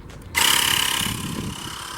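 A portable Xiaomi or Baseus air pump switches on to inflate a car tyre let down to 20 psi, starting abruptly with a loud, buzzing, rapidly pulsing electric compressor drone that settles to a steady rattle.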